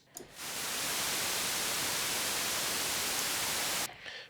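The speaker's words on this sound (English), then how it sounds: "Now I'm going to introduce noise." Steady white noise from the noise module of an Arturia Mini-V4 synthesizer, a flat, even hiss running for about four seconds with clean starts and stops, nothing else playing.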